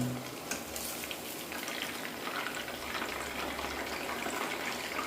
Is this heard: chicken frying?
yes